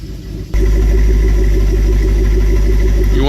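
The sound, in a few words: 2008 Jeep SRT8 engine running after cold start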